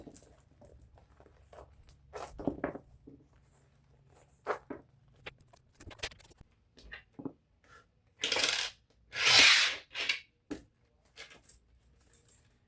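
Coins are handled and dropped, giving sparse metallic clinks and small jingles at first, then two louder bursts of coins spilling and rattling together, all nearby with no speech.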